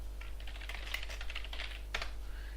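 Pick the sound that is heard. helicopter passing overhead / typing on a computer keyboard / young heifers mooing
typing on a computer keyboard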